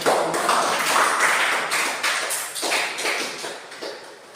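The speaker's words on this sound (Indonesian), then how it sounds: "Mari kita sekali lagi tepuk tangan untuk" A classroom of students claps hands together in a dense, continuous patter that runs steadily for a few seconds, then thins and fades toward the end, with no clear talking over it.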